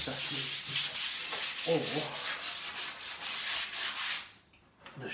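An orbital sander buzzes steadily against wood with a harsh, gritty hiss, running continuously before briefly cutting out near the end.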